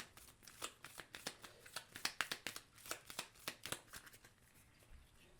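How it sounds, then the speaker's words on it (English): Character cards for the Marvel United board game are shuffled by hand, a quick run of crisp riffling snaps and slaps, close and fairly quiet, with no talk over them. "Let's go ahead and shuffle up my characters."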